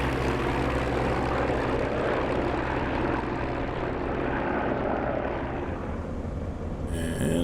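A P-47 Thunderbolt in a flight simulator taking off, with a loud, steady propeller engine drone that holds full power for several seconds before easing slightly, no voices.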